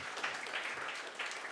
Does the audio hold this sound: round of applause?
yes